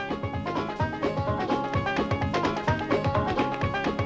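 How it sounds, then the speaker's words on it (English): An Optigan optical organ's five-string banjo sound plays bright plucked notes bouncing over a steady bass pulse in a lively, even rhythm, alone at moderate volume. "but perhaps you'd like to play a five-string banjo"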